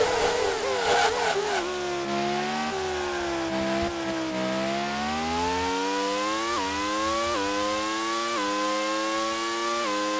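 Formula 1 race car engines scream in the Grand Prix 2 racing game, one loud high-revving whine climbing and sharply dropping through gear changes with a steady drone underneath.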